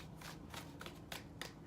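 A deck of tarot cards is shuffled by hand in a quiet room, giving a steady riffling rustle with a few sharper bursts of card slaps, close and fairly soft.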